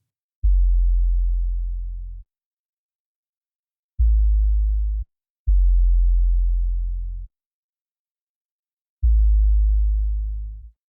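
Four deep, sustained distorted 808 bass notes with compression hit in sequence with gaps between them, each holding a heavy low tone before fading, loud and clean in isolation.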